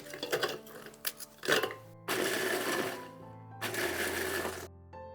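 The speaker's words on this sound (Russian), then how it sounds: "Выкладываю в блендер немного печенья, измельчаю." Kitchen blender crushing cookies into crumbs for a honey cake, running in several separate loud whirring bursts with short pauses between them and rattling of the pieces inside.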